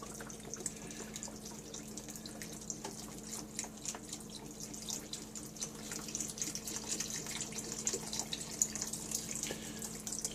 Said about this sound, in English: I'm going to pour my beef broth in here.